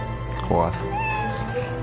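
A cat meows once in a short, clear call over steady game music, with a video game playing and a person talking nearby.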